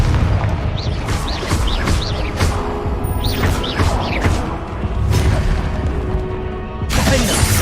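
Confringo spell blasts in Hogwarts Legacy on hard mode, repeated booming, crashing impacts with shattering debris and whooshing magic effects, loud and close throughout.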